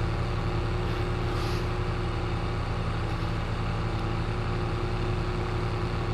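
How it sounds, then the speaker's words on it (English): A tractor engine drives along a road in the Farming Simulator 22 video game, a loud, constant low droning hum with a steady tone that runs unbroken throughout, with no talking. "we just decided to take a road trip in a tractor."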